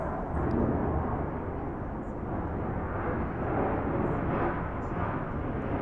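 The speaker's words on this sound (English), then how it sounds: "Can you hear those planes?" Airplanes roar overhead in a steady, broad rumble that fills the whole stretch at an even level, with no talk heard over the noise.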